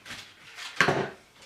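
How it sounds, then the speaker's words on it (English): A plastic wing pack falls off an oversized Jinbao KO Transformers Nero Rex combiner figure, a sharp clattering knock followed by a brief light rattle as it drops onto a hard surface, quiet and close with no talking. "I just knocked the wing pack off"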